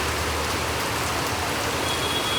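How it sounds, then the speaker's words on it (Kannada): Heavy rain pours down in a dense, steady hiss with no breaks, close and fairly loud throughout, with no voices. "ತುಂಬ ಮಳೆ ಬರ್ತಾ ಇದೆ."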